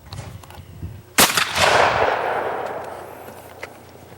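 A single loud shotgun blast at an outdoor skeet shooting station, a sharp crack followed by a long rolling echo that fades over a couple of seconds, with no talk.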